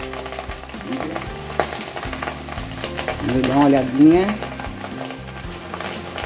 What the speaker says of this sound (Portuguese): Vamos deixar isso caramelizar e eu volto. Ó, estão escutando o estralo?